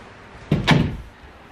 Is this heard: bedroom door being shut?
yes